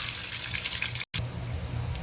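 Water pours steadily from a tap into a cooking pot, a continuous close splashing rush with one very brief break midway.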